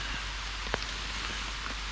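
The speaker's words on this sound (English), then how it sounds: "there's the rain coming, as you can probably hear" Rain falls outside during a Mount Fuji sea-to-summit trek, heard from indoors as a steady, soft hiss with a few faint, scattered drop ticks.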